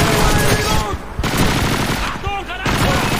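Heavy gunfire from the video game Call of Duty 2 fills the moment with sustained automatic bursts, briefly dipping and resuming, while voices are mixed underneath the loud shooting.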